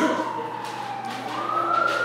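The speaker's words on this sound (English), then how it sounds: "this is like the 10th time the sirens went off" Emergency sirens wail outside a classroom, a rising and falling tone heard steadily through the walls above a low room hum.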